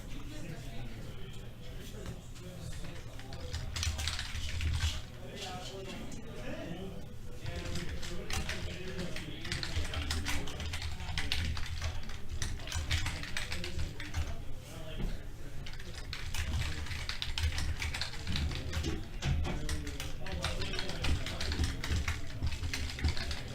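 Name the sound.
clicking of a computer keyboard while typing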